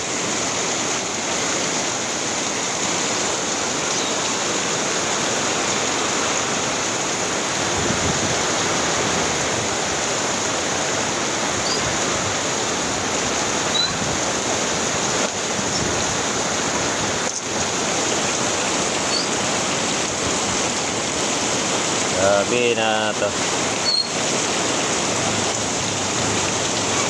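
Heavy rain pours steadily as a loud, dense hiss of water on surfaces throughout, with a short voice heard briefly near the end.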